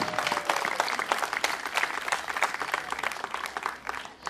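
A crowd applauds a youth football team from a soccer school in Spoleto, Italy, with continuous clapping over several seconds, moderately distant, fading slightly near the end.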